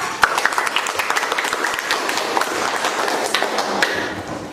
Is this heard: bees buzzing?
no